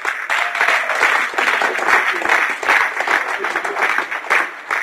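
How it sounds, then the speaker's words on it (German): Audience applause for a handball player at a televised tribute, steady and dense clapping from a crowd filling the whole stretch with no pauses. "das ist mal extra Applaus wert."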